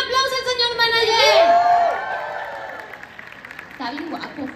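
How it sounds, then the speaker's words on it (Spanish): A concert crowd at La Mole 2024, at a Frozen-themed show, applauds and cheers. Rising whoops and shouts swell early and fade, with voices and scattered clapping continuing underneath. "¡Un aplauso al señor manager!"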